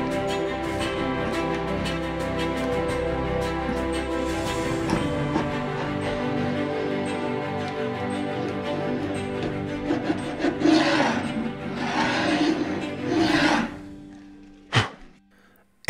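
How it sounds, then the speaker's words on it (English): A wood chisel scrapes and rasps along a glued laminate strip, prying it off, with steady rubbing and harmonic scraping, followed by several louder strokes and a sharp knock near the end. "Using my wood chisel, I'm going to remove the strip at this time."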